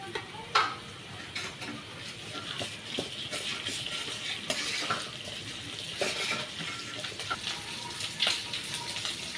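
Onion frying lightly in a pan in a village kitchen, a quiet continuous sizzle broken by frequent stirring scrapes and clinks of the spoon.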